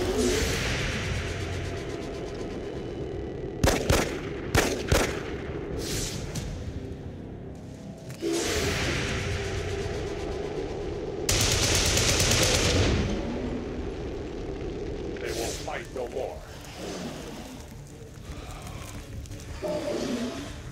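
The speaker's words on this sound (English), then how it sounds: "That explosion reverberated throughout most of the city." Explosions and bursts of gunfire in the video game Alien Fortress 2, with several sharp loud blasts and sustained broadband roars rising and falling over a constant rumbling background, no talk.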